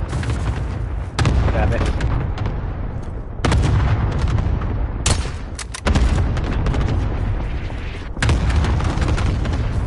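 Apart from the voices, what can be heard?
cluster strike explosions in Call of Duty Warzone video game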